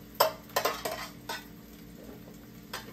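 Onions going into a hot pan and being stirred: a burst of metallic clatter and scraping at first, then quieter stirring over a faint sizzle.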